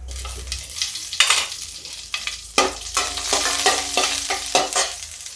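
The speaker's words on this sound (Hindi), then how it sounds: "देखिए 1 स्पून मैंने इसमें जीरा डाल दिया है। और ये देखिए 3 टुकड़े में हम मिर्च डाल देंगे।" Cumin seeds and chilli pieces sizzle and crackle in hot oil in a steel kadhai, with sharp bursts of spitting and stirring scrapes over a steady frying hiss, close and fairly loud.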